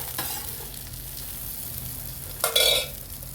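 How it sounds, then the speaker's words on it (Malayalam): Fried okra (ladies finger) being shifted out of a pan into another vessel: a low, steady sizzle with a brief scraping, clattering burst near the end, close, without talk. "അപ്പോൾ ഇനി നമുക്കിത് മാറ്റാം, വേറൊരു പാത്രത്തിലേക്ക്"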